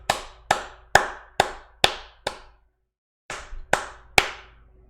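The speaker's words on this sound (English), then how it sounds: "round of applause for these guys, man, for just doing what they do." Loud, close hand claps ring out in a slow, deliberate series, six evenly spaced, then a short silence, a soft rustle and three more claps.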